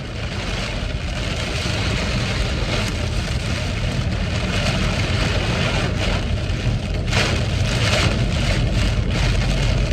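Heavy rain during a late-night thunderstorm between Waco and Fort Worth, a dense continuous roar of downpour with a low rumbling undertone, steady and loud for the whole stretch.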